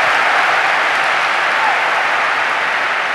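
Steady, dense audience applause fills a large keynote hall at the INBOUND 2014 conference, loud and continuous throughout without a break.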